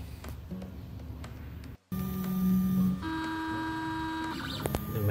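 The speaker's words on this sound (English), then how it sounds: "The machine is doing the bed leveling." A 3D printer runs its automatic bed leveling, with whining stepper-motor tones and steady hums broken by a brief pause. It then moves on with sustained pitched motor notes and small ticks, up close and without voices.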